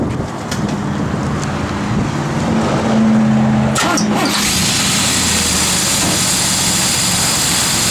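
A 1968 Chevrolet Camaro SS engine runs steadily close by, a loud continuous rumble under heavy wind buffeting on the microphone, with a brief rattle or handling noise partway through.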